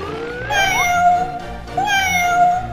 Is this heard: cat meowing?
yes